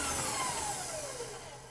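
Electric mixer whisking butter while creaming it, a steady whirring motor hum with a slowly falling whine, close and continuous.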